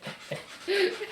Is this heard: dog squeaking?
yes